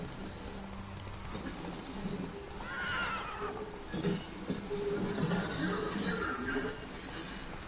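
Geralt's horse in The Witcher 3 gives a whinny over soft rain, then its hooves clip-clop along at a trot. The sounds are close but fairly quiet, and the rain hiss continues underneath throughout.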